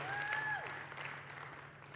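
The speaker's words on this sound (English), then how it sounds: "Can we give Cody a massive round of applause?" A church audience applauds, a brief wash of clapping heard at a distance and fairly faint, with a soft whistle-like tone rising briefly above it.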